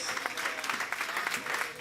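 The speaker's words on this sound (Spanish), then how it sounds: "Si va a aplaudir, aplauda fuerte para nuestro Dios." A church congregation applauding loudly, with dense, steady clapping that sounds like a crowd in a room, mixed with some voices.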